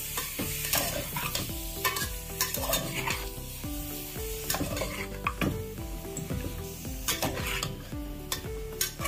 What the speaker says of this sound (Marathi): आपण चिकन टाकून देऊ आणि एकदम चांगल्या पद्धतीत मिक्स करून घेऊ